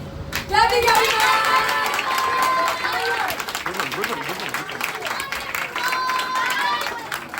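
An audience at an Independence Day celebration claps at an English cafe in India, scattered and uneven, mixed with excited voices and chatter throughout.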